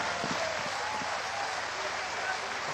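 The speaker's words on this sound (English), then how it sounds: "The crowd showing their appreciation for the defensive work done there" A crowd applauds defensive play at an Argentina versus Netherlands hockey match, a dense, steady roar of clapping that fills the stadium without pause.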